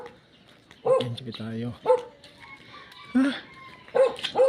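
A dog barks and yips several times in short bursts, nearby, while a person talks over and between the barks.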